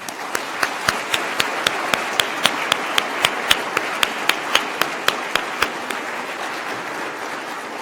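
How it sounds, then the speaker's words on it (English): An audience applauds at a public service award ceremony: sustained crowd clapping fills the room while one loud, sharp clapper stands out on top in a steady, even beat. "Please give them a final round of applause"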